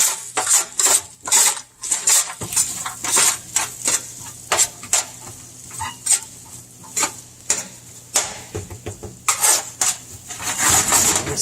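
A utensil scrapes and clanks repeatedly against a roasting pan as browning mirepoix of onions is spread out, loud irregular metallic strikes over a faint sizzle.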